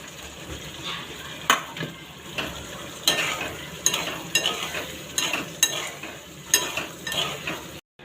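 Ground garlic, red chilli and salt sizzle in hot oil for a tempering, with steady frying crackle and repeated sharp scrapes and clinks of a spoon stirring in the pan, close and clear without speech.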